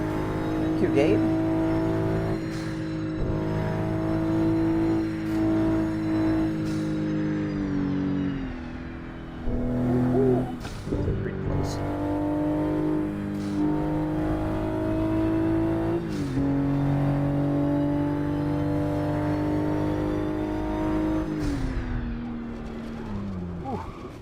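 Engine of a Toyota Supra MK5 driven in a racing video game, a steady loud drone with rising and falling revs and gear shifts, playing throughout with a person talking over it.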